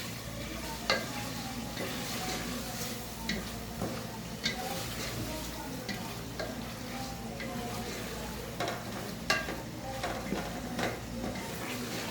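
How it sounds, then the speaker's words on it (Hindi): Chicken gizzard and liver stir-fry in masala in a pan, a continuous sizzle broken by periodic scraping knocks of a spoon against the pan at an uneven pace. "8-10 मिनट इसकी भुनाई कर लेते हैं।"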